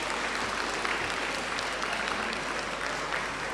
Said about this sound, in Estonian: Teeme palun kõigepealt aplausi meie kohtunikule Guido Bandoni Itaaliast.